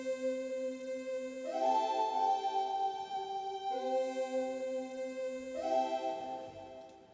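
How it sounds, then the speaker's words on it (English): A granular choir synth patch from Labs Astral Forms plays sustained, airy vocal-like chords that shift twice, forming a steady, spacious pad with no talking. "The granular choir sounds like this."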